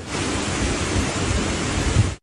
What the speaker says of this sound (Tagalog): Dahil sa malakas na ulan at hangin.